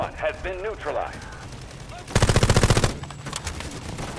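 Rapid automatic gunfire from a weapon in the video game Delta Force Hawk Ops, one loud close burst of evenly spaced shots lasting under a second, with someone talking before it and game sounds around it.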